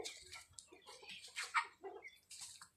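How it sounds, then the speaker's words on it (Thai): Domestic chickens at a backyard coop cluck in short, uneven bursts, fairly close and moderately loud, with no talk over them. "ไก่บ้านนี้เยอะมากค่ะ"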